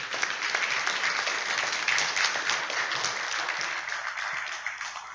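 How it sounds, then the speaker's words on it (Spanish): A church congregation bursts into sustained, dense applause that holds steady for several seconds, filling the room with many hands clapping at once. "Denle un aplauso al Señor por lo que hizo"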